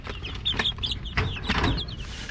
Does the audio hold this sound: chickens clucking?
yes